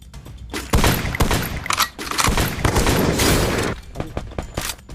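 Rapid bursts of gunfire from the mobile game Garena Free Fire crackle in dense volleys with short gaps between them, loud and sharp, while a player talks quietly underneath.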